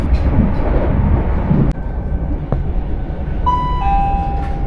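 Southern train running on the Brighton line as it nears Haywards Heath station, with a loud steady rumble of wheels and carriage noise, a sharp clank partway through and a high brake squeal in the final seconds.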